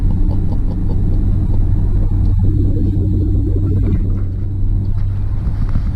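A car driving at about 60 km/h around roundabouts, giving a loud, steady low engine and road rumble that runs unbroken throughout, with no talking.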